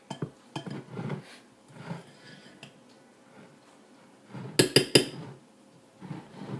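Homemade deodorant ingredients being stirred and mashed in a bowl, with soft scraping strokes and a quick cluster of sharp metallic clinks against the bowl near the end.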